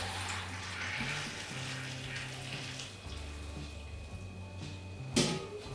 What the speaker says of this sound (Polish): Więc teraz zalewamy.